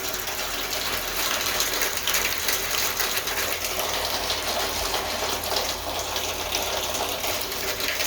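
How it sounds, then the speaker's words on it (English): Heavy rain pours steadily, with water gushing and splashing down like an outdoor waterfall during a downpour, a dense, continuous roar close by with no voices. "It's raining and that means we get outdoor waterfall."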